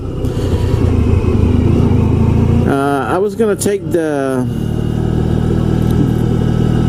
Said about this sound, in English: we drilled holes on the exhaust because he wants the bike to be a little noisy because it was too quiet for him